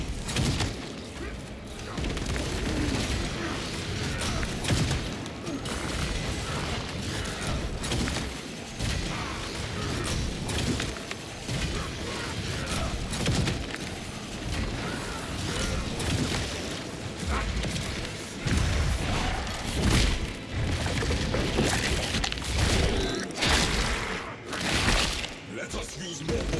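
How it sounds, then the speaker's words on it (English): Bombs exploding in the Space Marine video game during a solo Vanguard fight against Tyranid forces: a dense, continuous barrage of crashing, shattering blasts and thuds over roughly half a minute, mixed with game action and a voice talking. "Let us use more bombs, just to be safe."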